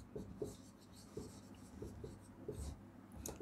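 Scratchy strokes of writing on a board during a Class VII Sanskrit lesson, coming in short repeated bursts with brief pauses, close and fairly quiet, with no talking.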